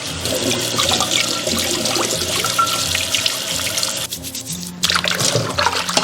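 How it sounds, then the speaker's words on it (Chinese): Sichuan smoked sausages and cured pork are washed in warm water, with running and splashing water close by, a brief dip in the flow, then more splashing, with no talking. "洗香肠腊肉一定要用稍微热的水才洗得比较干净"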